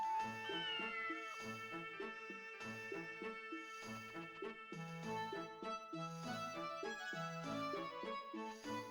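Cat meowing inside the video game Breath of Fire 4, the cries sounding over a dense, continuous game music score with steady melodic tones throughout.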